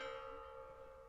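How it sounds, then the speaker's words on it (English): Church bell tolling at the Khatyn memorial in Belarus: a sustained ringing tone with rich overtones, fading slowly, distant and faint. "sometimes you're hearing these bells toll all over."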